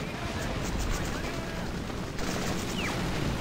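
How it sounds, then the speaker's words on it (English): Steady battlefield din from the Men of War: Assault Squad 2 game, with dense overlapping gunfire and explosions rumbling continuously throughout, plus a brief whistling streak near the end. "Oh wow, look at the explosions."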